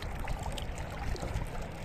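Rough sea waves churn and wash continuously near a shore on a breezy day, a steady broadband rush of water with small surges and no talk.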